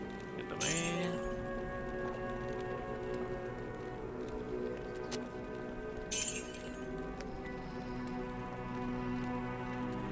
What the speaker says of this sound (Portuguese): É a chuva do deserto.